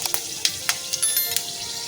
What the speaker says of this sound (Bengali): তেলে দিয়ে দেবো পাঁচফোড়ন, একটা শুকনো লঙ্কা,